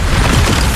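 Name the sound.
Bombarda explosion spell in video game Hogwarts Legacy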